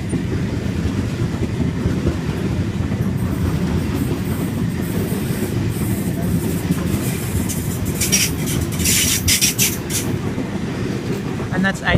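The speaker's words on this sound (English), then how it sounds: "And that's A78 passing platform 2." A Sydney Trains Waratah set passes a platform with a steady, loud rumbling roar and rhythmic clickety-clack of wheels throughout, plus a burst of bright metallic squealing and clatter near the end, with no other sounds over it.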